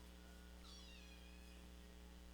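A cat gives one soft, drawn-out meow, quiet and fairly close, set against a steady low electrical hum.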